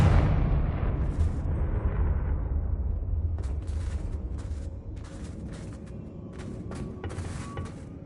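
Spell blasts from Bombardo and Confringo in Hogwarts Legacy: a heavy booming explosion opens and rumbles as it fades, followed by several short, bright crackling bursts spread through the later seconds.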